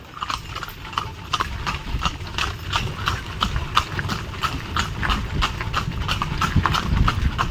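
Horse hooves clip-clop in a steady, even rhythm from a horse-drawn cart in Kasaragod, Kerala, loud and close throughout with no voices.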